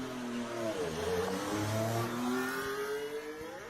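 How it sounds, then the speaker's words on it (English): A Ferrari Formula 1 car engine revs hard on a launch lap, its pitch climbing and falling in rising sweeps. The sound is loud and sustained, with no talking. "What do you guys make of the engine sounds this year?"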